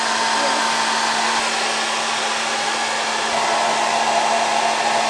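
A hair dryer runs steadily at high power while drying a spot on a bathtub before a chip repair, producing a loud, continuous blowing whir with a constant hum and no talking.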